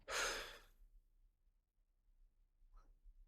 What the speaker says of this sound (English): So we're going to breathe in and strongly blow the air out.